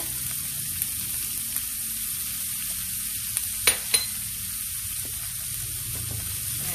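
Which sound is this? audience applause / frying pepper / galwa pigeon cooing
frying pepper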